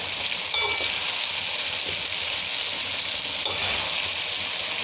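Chopped eggplant added to a pan with potatoes and fried while being mixed, giving a constant bright sizzle with a couple of brief clinks and stirring scrapes, no speech.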